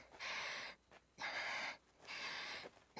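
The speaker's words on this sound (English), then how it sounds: "No, just girl breathing." A girl character in the video game Tales of Arise breathes heavily, three long, close, rasping gasps with short pauses between them, alone without speech.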